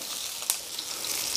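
Grilled sausages sizzle on a Blackstone griddle, a steady close crackling hiss with one sharp pop midway and no talking.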